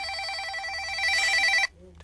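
A telephone rings with a bright, repeating electronic trill, loud and close, then cuts off abruptly with a brief muffled sound after.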